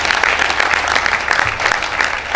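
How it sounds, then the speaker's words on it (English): A packed business summit hall fills with loud, continuous applause for the organizing staff, many hands clapping in a dense, even roar throughout with no speech on top. "And we clap for them."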